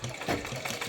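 Sewing machine stitching the waistband of a lehenga, a brief steady mechanical whir running close and loud with a soft rhythmic pulse.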